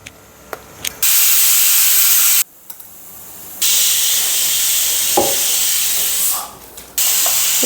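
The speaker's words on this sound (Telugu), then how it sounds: "ఒక 4 విజిల్స్ వచ్చే వరకు ఉడికించుకోవాలి." Pressure cooker on the stove cooking egg biryani lets off loud bursts of hissing steam from its whistle, several long sprays separated by short quiet gaps.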